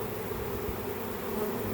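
A honey bee swarm buzzes steadily during a capture at home, a dense, continuous drone of many wings filling the whole stretch with no voices.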